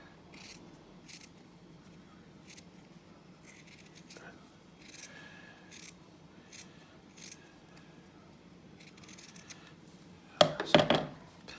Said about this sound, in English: forgot to trim off the excess